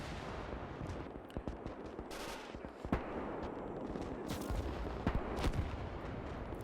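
Dense, continuous battle gunfire from the Gates of Hell video game, with sharp cracks and heavy booms of artillery shells layered over a constant roar of combat; no talking.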